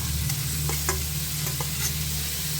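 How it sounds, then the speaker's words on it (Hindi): Grated bottle gourd frying in ghee for kheer, a steady close sizzle with several short scraping clicks of a spoon stirring the pan, no voices. "ग्रेटेड लौकी को इसमें फ्राई कर लेते हैं, थोड़ा भून लेते हैं"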